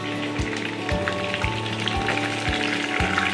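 Pieces of meat fry in a pan of hot oil, giving a dense, rain-like crackle close by, punctuated by regular soft low thumps roughly every half second, with no talking.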